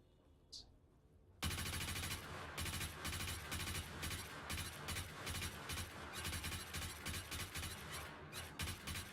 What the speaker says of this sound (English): The first shot with this SMG has like no recoil.